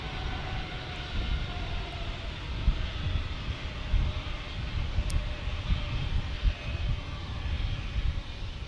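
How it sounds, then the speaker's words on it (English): A JetBlue jet airliner at San Diego airport sends out a steady, broad engine roar that holds evenly throughout, with a faint high whine above it and no talk. "JetBlue heading back to JFK"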